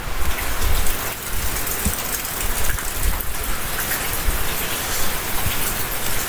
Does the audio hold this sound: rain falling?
yes